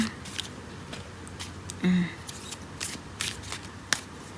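A deck of tarot cards is shuffled by hand close by, with a series of quick papery riffles and flicks, a couple of louder snaps, and quiet pauses between them.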